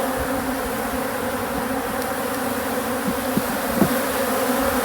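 Honey bees robbing a hive in an outdoor bee yard, chewing through wax cappings to take honey: a steady, dense buzzing swarm hum fills the whole stretch at even loudness, with a few faint knocks, no voices.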